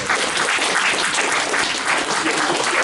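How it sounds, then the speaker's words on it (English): Applause from the audience at a real estate investors association meeting, a dense, steady burst of clapping filling the room for about three seconds. "That does get a round of applause."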